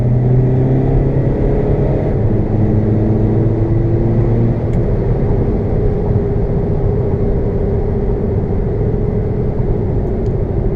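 A tuned car launches hard from a standing start, tires breaking loose as the engine roars loud and steady, rising in pitch through the run with no talk over it.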